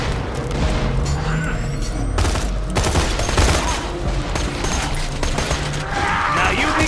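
Sustained gunfire roars through a Borderlands 2 shootout, dense overlapping bursts and booms continuing without pause, loud and close, with voices talking over the din.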